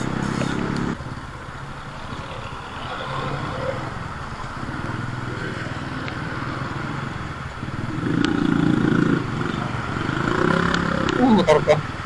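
A Honda Wave 110R motorcycle fitted with a 14/34 sprocket runs in the rain, its low engine drone steady and close, swelling louder as it revs up toward the end.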